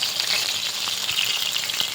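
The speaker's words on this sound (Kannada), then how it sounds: "ಚಲೋ ಫ್ರೈ ಮಾಡ್ಕೋಬೇಕು ನೋಡ್ರಿ." Oil sizzles and crackles steadily as food fries in a pan for a North Karnataka home-style recipe, a dense continuous hiss that stays close and loud throughout.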